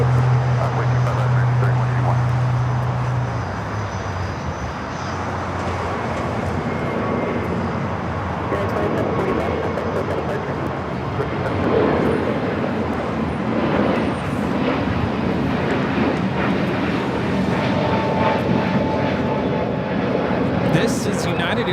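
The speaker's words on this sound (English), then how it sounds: "This is United Airlines 2745 taking off to Denver, Colorado on the A321neo." A United Airlines Airbus A321neo takes off from LAX on a flight to Denver, its steady broadband jet roar sustained and fairly loud throughout, with people talking over it.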